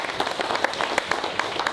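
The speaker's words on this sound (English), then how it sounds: "So I want to personally give my team a round of applause." A crowd at a Bare Knuckle Fighting Championship pre-fight press conference gives a short burst of applause, loose scattered claps with a few sharper hits standing out, close and fairly loud.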